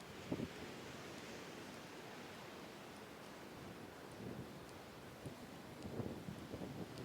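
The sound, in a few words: strong wind at Yalta seafront during winter storm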